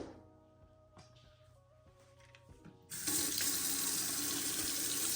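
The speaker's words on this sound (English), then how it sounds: "So I'm gonna rinse it off and scrub it." A faucet opens midway and runs steadily into a sink to rinse an electric toothbrush, the water loud and continuous after quieter handling noises.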